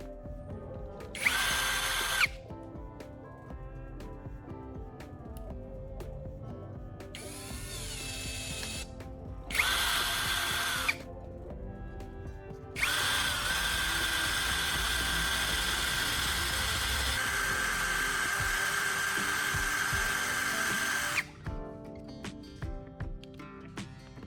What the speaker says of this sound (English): just grind one end down to a fine tip